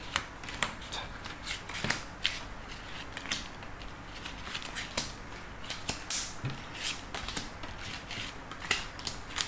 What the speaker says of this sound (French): je vais faire le tirage en 9 cartes.